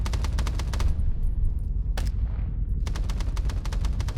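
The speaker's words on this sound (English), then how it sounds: "machine gunner, start suppressing those towers" Machine guns fire in rapid bursts to suppress towers during a military fire exercise, with loud close rattling volleys broken by short pauses and echoing booms, no talking.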